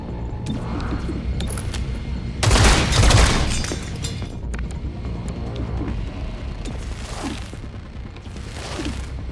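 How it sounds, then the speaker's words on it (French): Gunfire in the tactical video game XCOM: Chimera Squad, with a loud burst of shots rising briefly over steady in-game background noise, followed by a couple of fainter whooshing effects. "j'ai le droit de tirer dessus en plus"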